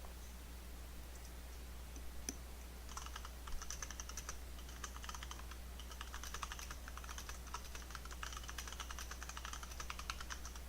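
Rapid clicking of typing on a computer keyboard during a game stream, steady bursts of close, crisp keystrokes over a low constant hum, no talking.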